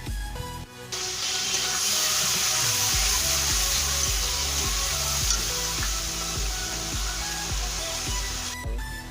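Chilli powder sizzles loudly in hot oil in a pan while being stirred, a steady close frying hiss with rhythmic scraping strokes, cooked for a vegetarian doi paneer (yogurt paneer curry).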